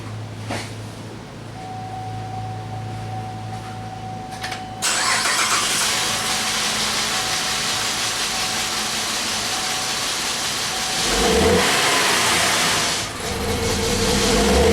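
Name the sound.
car engine starting and revving at wide open throttle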